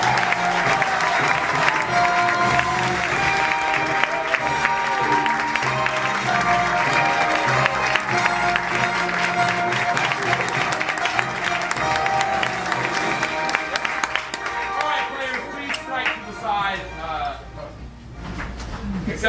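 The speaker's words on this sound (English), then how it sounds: "So please, one more round of applause, I ask you." An audience at an international improv show applauds and cheers to welcome the night's US performers, a loud sustained wash of clapping and whoops that thins and breaks up toward the end.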